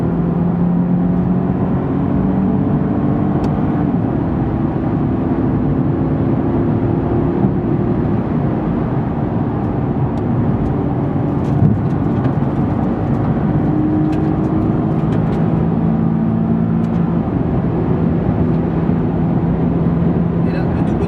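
Nissan 370Z GT4 race car at full throttle on the Le Mans circuit, a loud continuous engine roar with the pitch holding and shifting. Someone speaks over it throughout.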